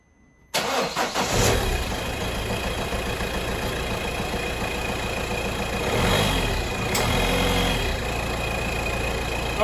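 A Citroen C3 Picasso engine cranks and catches abruptly after an oil change, then settles into a steady, loud idle that runs on without pause, with the inlet pipes removed.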